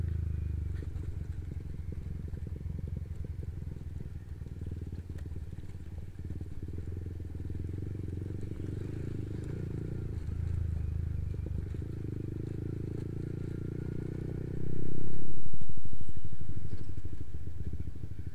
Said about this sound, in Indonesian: Bahkan di tengah jalan yang rusak seperti ini pun masih ada motor yang jual bakso lewat di sini.